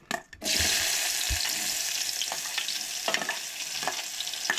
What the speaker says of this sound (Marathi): सो आता कांदो बीन न्हय फोडणीक घालतली